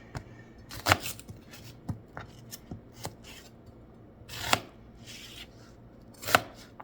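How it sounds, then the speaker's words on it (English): A knife chops an onion into large dice on a board: irregular, crisp cuts up close, with several louder sharp strikes among lighter taps and no talking. "I'm just gonna chop the onion into just like larger dices"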